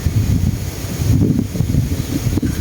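Gusty wind buffets an outdoor spot by a house during airgun fishing, a steady low rushing roar with rough surges that rise and fall throughout, close to the microphone and with no talk.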